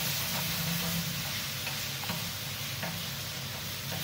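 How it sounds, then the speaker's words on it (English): Fresh tomatoes sizzle as they sauté in a wide paella dish, a soft, steady frying hiss with a few faint ticks and stirring clicks, with no voices over it. "Let those tomatoes start cooking."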